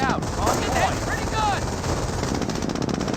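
An MG42 machine gun fires in rapid continuous bursts during a Company of Heroes battle, with game effects around it and a commentator talking over the clatter.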